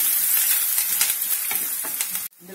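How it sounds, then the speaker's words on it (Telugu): Onions with salt frying in a pan for an eggplant and prawn curry, a loud close crackling sizzle with stirring scrapes that cuts off abruptly near the end. "ఉల్లిపాయలు వేగాలి."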